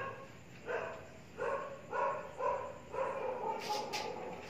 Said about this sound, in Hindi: देखो कुत्ते भी बेचारे चिल्ला रहे हैं